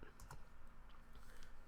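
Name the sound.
typing a command on a computer keyboard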